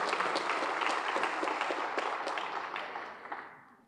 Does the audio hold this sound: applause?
yes